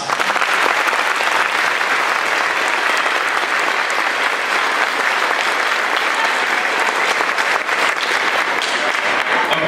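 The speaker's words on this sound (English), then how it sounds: "please give a round of applause for Mr. Cox" A large audience at a middle and high school choir concert gives a teacher a sustained round of applause, loud and continuous, many hands clapping evenly for nearly ten seconds with a little crowd noise mixed in.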